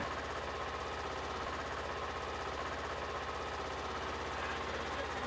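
A Polaris side-by-side off-road vehicle engine runs under light throttle, giving a continuous, steady rumbling drone with an even pulse throughout.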